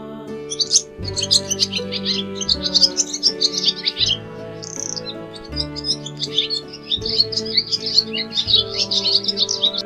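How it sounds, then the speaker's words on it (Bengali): A dove calling in a tree: bright, repeated chirping bird calls run throughout over a steady musical backing, fairly loud and with no talk. "ঘুঘু পাখি ডাকছে গাছে।"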